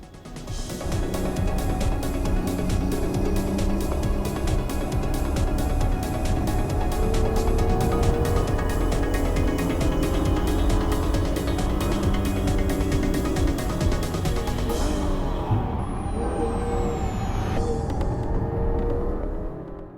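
A 2013 Cadillac ATS pushed hard around a Georgia race track, its engine roaring steadily for the whole stretch with rising and falling pitch as it accelerates and shifts, loud and close, with no talking.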